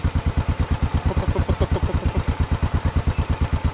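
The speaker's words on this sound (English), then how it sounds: "Proper old school bike. Sounds lovely." An old school motorcycle engine runs at a steady idle close by, a loud, even chugging thump with regular firing pulses and a light mechanical clatter, with no talking.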